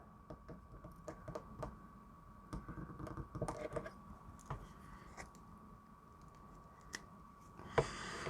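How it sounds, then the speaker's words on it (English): An X-acto knife cutting a plastic Power Rangers Lightning Collection action figure part apart from the body, faint close scraping and clicking cuts over quiet room noise, with one sharper snap near the end. "Now that it's kind of down to the end here, I'm just going to use my X-acto knife."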